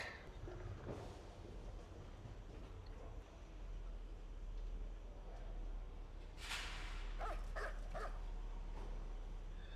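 Dog barking in the video game Still Life, a few sharp barks clustered in quick succession near the end, rising over a steady low ambient rumble with no talk.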